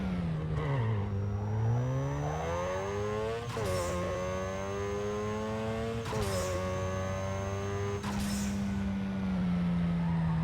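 A Mazda RX7 rotary engine in Need for Speed Underground 2 revs up through several gears, each pull rising in pitch before a sharp shift drop, loud and close with no voices.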